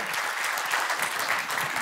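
A studio audience on a music television show gives sustained, even applause, a steady roar of many hands clapping throughout, with no voices over it.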